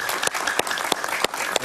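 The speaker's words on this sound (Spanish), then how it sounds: "Un aplauso para Moisés, por favor." A studio audience applauding on a television talk show, dense, continuous clapping throughout with a few sharp individual claps standing out close to the mic.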